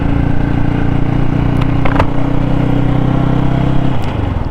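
A Yamaha YZF R125 first-generation motorcycle rides slowly through Brixham, its engine a steady close drone with a brief rise in revs midway before the tone drops near the end.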